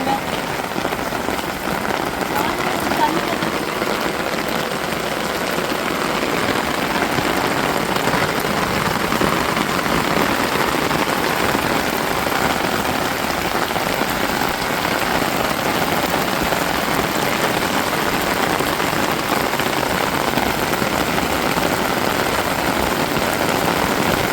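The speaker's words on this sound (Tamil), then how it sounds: "இப்போ மறுபடியும் மழை பெஞ்சு தண்ணி கட்டிட்டு பாருங்கள்" Steady, dense rainfall pours down continuously, a broad hiss with a low rumble underneath, heavy and close throughout.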